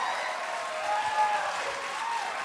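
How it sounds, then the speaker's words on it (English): Applause rises from the audience at a congressional candidates' debate after a remark on codifying Roe v. Wade, a muted, steady patter of clapping with faint crowd murmur beneath. "Please hold your applause."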